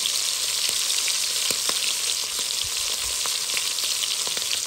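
Shrimp fried golden in a pan give a loud, steady, close sizzle throughout, with faint scattered pops and ticks and no voices.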